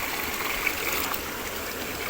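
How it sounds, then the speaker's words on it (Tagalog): Water from a cold natural spring flows in a continuous, even gush, close and steady with no voices. "Dire-diretso yung tubig yan. Dire-diretso yung daloy."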